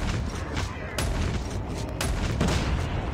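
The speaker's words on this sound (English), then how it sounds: "See the explosion?" Rapid bursts of explosions and gunfire in Call of Duty Mobile zombies mode as a pack of zombies blows apart, a dense, loud, continuous barrage with sharp booms near the one- and two-second marks.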